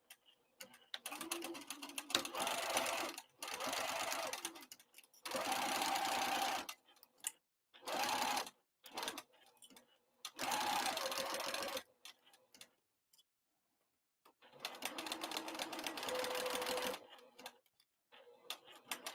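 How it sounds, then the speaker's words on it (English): Sewing machine stitching fabric with a quarter-inch seam allowance while assembling the lining of a crossbody bag, running in several loud, steady bursts separated by short silent pauses, close up and without talk. "I'm now going to stitch using a 1/4 of an inch seam allowance"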